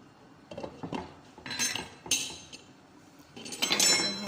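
A lid goes onto a cooking pot among dishes clinking, a few sharp metallic clanks and rattles arriving in short separate bursts at moderate volume, with quiet gaps between them.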